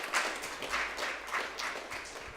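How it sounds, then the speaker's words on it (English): Young participants at a youth sitting applaud themselves; soft, fairly distant group clapping with a steady pulse, no voices over it. "Give yourselves a round of applause"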